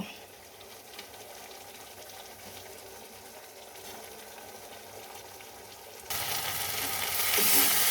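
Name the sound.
onion, garlic and Kashmiri chilli spice paste frying in oil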